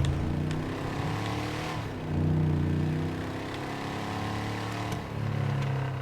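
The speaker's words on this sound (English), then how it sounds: "even the exhaust popping, look at that" Loud car engine drone in the game LSPDFR, with revving and rising pitch, broken by sharp crackling pops from the exhaust, continuous throughout.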